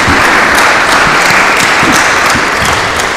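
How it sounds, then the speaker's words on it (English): Loud, dense audience applause at an academic symposium, many hands clapping in a continuous close wash with no voices over it. "So please, a round of applause for him."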